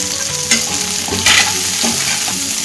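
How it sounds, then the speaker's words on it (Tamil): Chopped onion and tomato with rock salt sizzle in a kadai, a steady close frying hiss broken by several scraping stirs of a spatula, with no talking. "இப்போ இந்த பெரிய வெங்காயம் போட்டுக்கலாம் ஒரு பக்கம் தக்காளியும் போட்டுக்கலாங்க கல் உப்பு கொஞ்சம் போல் போட்டுக்கிறேன் வதங்கிறதுக்கு"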